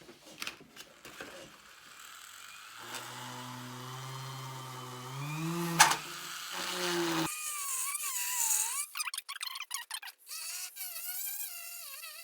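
A handheld rotary power tool cuts out a handle die for an extruder, whining in rising and falling pitches with gritty grinding bursts and abrupt changes in speed, close and fairly loud, with no talking.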